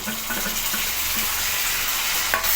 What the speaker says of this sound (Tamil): அதையும் சேர்த்து நல்லா வதக்கிக்கலாம்